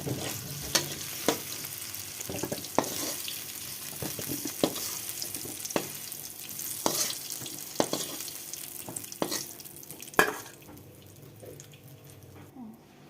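Potatoes and green banana frying in oil with a soft sizzle, punctuated by repeated scraping and clinking as the pieces are lifted out, then quieting.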